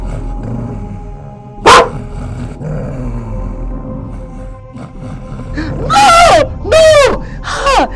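A man crawling into bushes imitates a dog, giving one sharp bark followed by two or three rough, drawn-out barking howls close by, with a dull background murmur.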